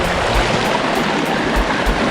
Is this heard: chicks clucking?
no